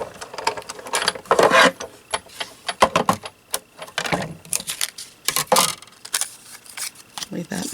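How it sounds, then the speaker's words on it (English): A Big Shot die-cutting machine being hand-cranked with plates fed through it, close, irregular clicking and ratcheting bursts with plastic rattles, while a person talks over part of it. "Crank it through the Big Shot."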